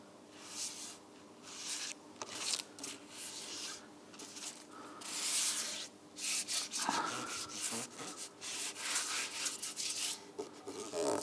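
Fine 800-grit sandpaper rubbing across an engine block being readied for rebuild, a steady rasping scrub in repeated strokes with brief pauses, close and moderately loud with no talk.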